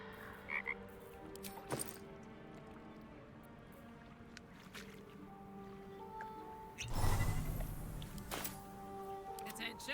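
A toad croaks in the video game Baldur's Gate 3, a low, rough croak heard over ambient game sounds and background music, with a louder burst of noise late in the clip.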